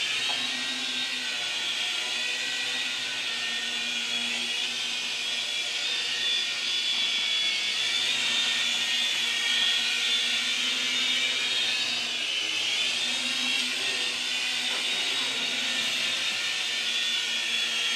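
A small LiteHawk Duo remote control helicopter whirs steadily with a high, buzzing motor whine that holds constant throughout, fairly close and with no talking.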